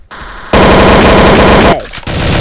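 AK-47 fire in a multiplayer video game, a loud close burst of rapid automatic shots, then a brief break before a shorter second burst.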